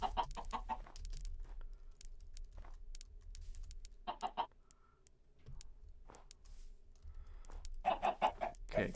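Minecraft chickens clucking in short bursts, several quick clucks near the start, middle and end over a faint steady game background, with quiet gaps between.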